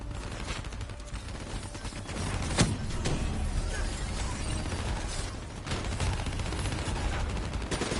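A video game turret fires in rapid mechanical bursts, with clattering gunfire and ratcheting sounds. The firing is dense and continuous, with sharp cracks standing out.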